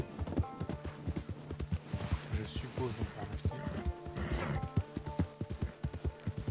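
Camp horse in Red Dead Redemption Online, hooves clip-clopping in a steady trotting rhythm, close and prominent, with someone speaking over the hoofbeats.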